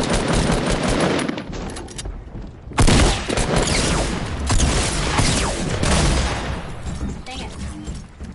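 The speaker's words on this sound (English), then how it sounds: "I just keep on switching guns with the AR and a shotgun." Rapid gunfire in a video game as the player switches between an AR rifle and a shotgun, dense overlapping shots and booms, loud and close, with a sharp blast near the three-second mark and talk mixed underneath.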